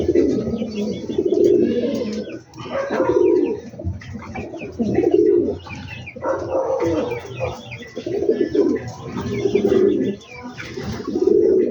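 Pigeons cooing close by in a backyard coop, repeated low throaty coos rolling in a steady rhythm, with faint chirps of other birds behind.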